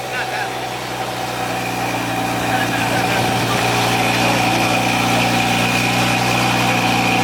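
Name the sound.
loud BMW F30 340i engine with 4.5 inch downpipe at car meet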